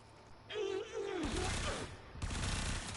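A rapid-fire weapon in the Warframe video game unleashes a dense, continuous burst of loud shots, briefly interrupted before resuming, after a short moment of a voice speaking at the start.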